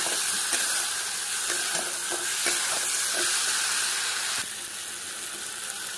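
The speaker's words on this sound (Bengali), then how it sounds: "এখন আমি ডিম আর পটলটাকে এই মশলার সঙ্গে 2 মিনিটের মতো আবার এরকম কষিয়ে নেব" Eggs and pointed gourd frying in oil with spice paste, a loud, constant close sizzle and hiss broken by repeated stirring scrapes and taps of a utensil.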